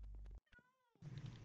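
A video-game cat in Minecraft gives one clear, rising-then-falling meow between bursts of louder noise, close and distinct.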